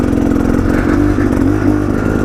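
A Beta 300 Xtrainer two-stroke dirt bike engine revs loudly and steadily close by, a continuous rasping buzz with slight rises in pitch and no talking.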